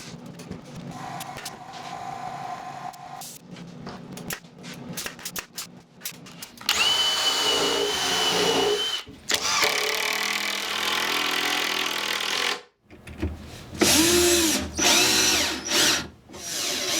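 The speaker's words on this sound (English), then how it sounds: "I can drill in from the edge and I can sink a screw into it" A power drill drives a screw into the edge of hardwood, in loud whirring bursts that rise and stop, with pauses and quieter handling noise between runs.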